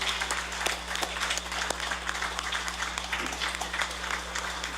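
An audience applauds at a Navajo Nation Council winter session, a steady, dense wash of many hands clapping with a faint electrical hum beneath, continuous throughout.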